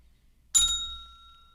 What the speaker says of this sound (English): Memorial Bell for Kevin Vick.